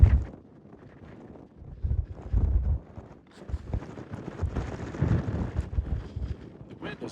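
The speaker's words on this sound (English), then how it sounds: "The wind is really ripping." Strong wind roars across the open summit of Mount Haleakala on Maui, cold and cloudy near the observatory, buffeting the microphone in heavy rumbling gusts that rise and fall throughout.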